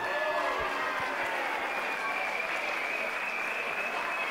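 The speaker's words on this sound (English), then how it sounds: "A round of applause for both fighters, Jamie Lester and Jakob Grzegorzek" Steady crowd applause fills a venue for both fighters after an MMA main event at Budo FC, continuous clapping with no break.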